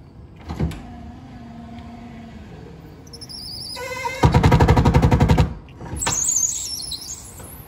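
An electric power window motor in a Corvette C3 whirs for about a second with a loud grinding buzz, set among a few brief clicks and mechanical clunks.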